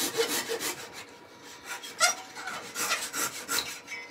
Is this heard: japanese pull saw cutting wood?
yes